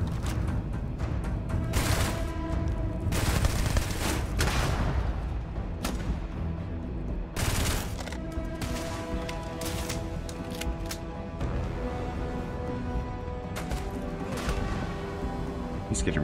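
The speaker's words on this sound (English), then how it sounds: "He's getting really good with those grenades." Grenade explosions and gunfire in the space shooter game Starfield, a series of sharp booms and bursts spread irregularly through the stretch, moderately loud over a continuous game soundtrack.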